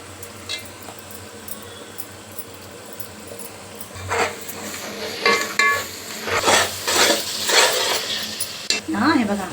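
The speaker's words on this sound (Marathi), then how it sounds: "आता मी हे हिरवं वाटण वाटलं ना, दही घालून वाटलं ते टाकते।" Green yogurt-based masala paste for chicken biryani drops into a hot pot and is stirred, giving soft sizzling and spoon scraping against the metal that grow louder partway through, with light clinks of utensils.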